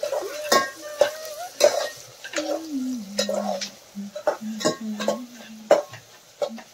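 Curry leaves and green chillies sizzle and spit in hot oil in a village kitchen, a steady close fry broken by sharp stirring knocks and short high squeaks.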